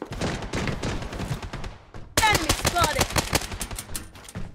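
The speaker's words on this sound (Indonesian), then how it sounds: "Ada suara tembak sebelah kanan." Gunfire in the shooter game Blood Strike, rapid automatic bursts of shots, loud and dense, with a short pause then a sharper, brighter volley; a voice talks faintly underneath.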